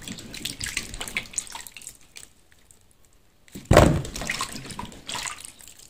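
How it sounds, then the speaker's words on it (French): Plantain bananas are washed under a running kitchen tap, with water splashing close by and a louder burst of flow after a brief quiet pause. "je lave les bananes"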